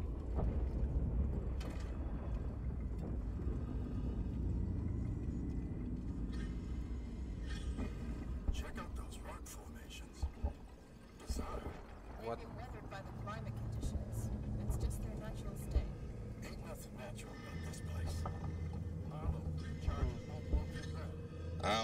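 Stormy weather ambience in Alien Isolation: a dense, steady low roar of wind and rumble fills the whole stretch, with scattered brief crackles and knocks on top and a voice talking over it.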